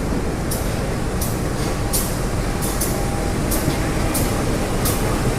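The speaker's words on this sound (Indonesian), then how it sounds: "Ini dia lokomotifnya setelah menempuh waktu kurang lebih sekitar 13 jam berdinas kereta api Airlangga" Steady loud rumble of the Airlangga passenger train's CC 201 diesel locomotive at a station after a 13-hour run, with broadband engine and track noise and repeated sharp hissing bursts like air brakes, no talk.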